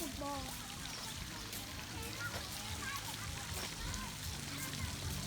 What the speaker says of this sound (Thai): แล้วก็จะมีน้ำตกแบบนี้นะน้ำพุนี่น้ำพุ